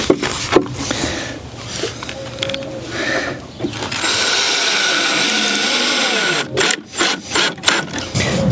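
A power drill with a star bit drives short screws into a raised garden bed. Bursts of whirring motor come in steady sustained runs and then shorter pulses near the end, loud and close, with no talk over them.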